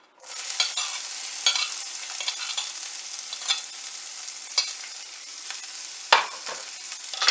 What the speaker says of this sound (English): And there goes my veggies, my onions and my peppers for my omelet